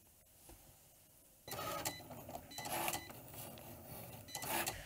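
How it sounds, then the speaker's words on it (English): A Cricut cutting machine cutting a tote bag design starts up after a quiet moment, then whirs and buzzes in repeated motor passes with short mechanical carriage movements, steady and close. "I'll just hit the go button here and it'll cut out my design."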